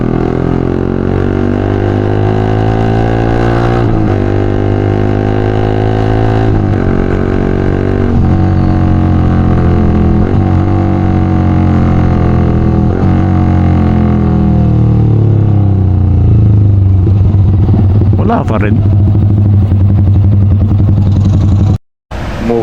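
A Yamaha R15 v3 motorcycle engine runs loud and close for a long stretch, revving up and down through repeated gear-like pitch climbs before cutting off abruptly near the end; a brief spoken phrase passes over it.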